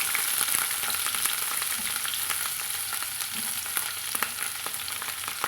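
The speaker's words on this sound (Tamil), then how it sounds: "ஒரு 2 நிமிஷம் நம்ம இதை நல்லா வந்து எண்ணெயிலே வதக்கி விட்டுக்கலாங்க" Long-cut tender eggplant pieces sauté in hot oil in a pan, a steady close frying sizzle throughout, punctuated by light stirring scrapes and taps, with no voices.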